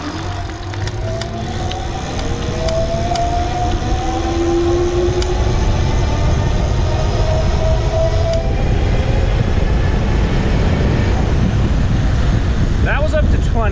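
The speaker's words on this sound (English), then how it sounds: "I'm going to take off on just the throttle so you can, you know, get a sense for how loud the motor is" Nireeka Homie e-bike hub motor pulling away on throttle alone up to about 20 mph: a faint, rising whine under strong steady wind rush and road noise, with no talk.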